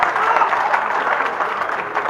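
Audience applause at a Haryanvi comedy show: a steady, dense wash of clapping that holds at an even level for about two seconds.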